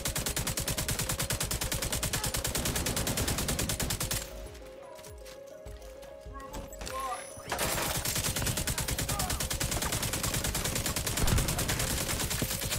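Rapid automatic gunfire rattles almost continuously as players shoot at targets in a video game. A short lull of scattered shots breaks the middle before the dense burst resumes.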